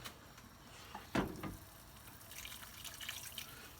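Water is poured into a pan of simmering chicken tikka masala, giving a brief splash and a faint ongoing trickle and bubbling over low kitchen background noise.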